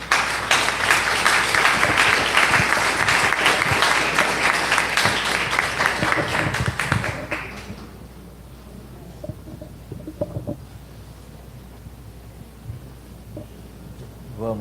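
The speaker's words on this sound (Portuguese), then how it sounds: "Então vamos receber nosso professor Antônio com uma salva de palmas" Applause from a church congregation welcoming a teacher during a novena evening at a parish, a dense burst of clapping lasting about seven seconds before dropping to a quiet room with faint scattered sounds.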